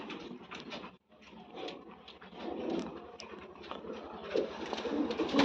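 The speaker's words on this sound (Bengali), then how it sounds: "এটা উস্তাদের তুফান কবুতর" A pigeon coos close by, a string of soft, low, throaty coos repeating at intervals over quiet background rustles and clatter.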